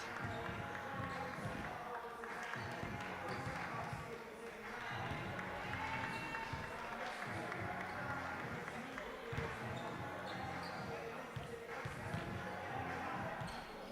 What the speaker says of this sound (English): We'll be marking that with 24 seconds of applause